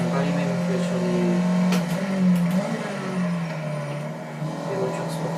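A car engine revs and drops through gear changes on the Bugatti circuit at Le Mans, loud and close, with a voice talking over it.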